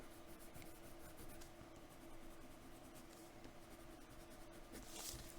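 Colored pencil scratching steadily across paper as color is layered in, a continuous close, soft scraping texture with faint room noise and no talking.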